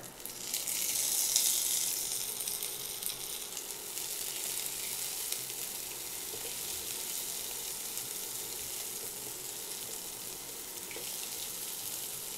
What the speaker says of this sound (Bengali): পেঁয়াজটা ভেজে নিয়েছি কাঁচা গন্ধটা মানে গেলেই হবে